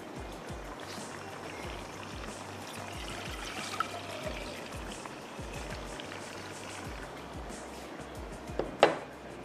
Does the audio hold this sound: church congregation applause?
no